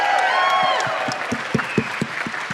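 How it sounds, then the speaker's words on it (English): A crowd applauds two rookie football players, Zach and Jaylen, at a team event, the clapping steady and fairly loud with a few sharp individual claps standing out near the end. "Give them a round of applause one more time for these guys."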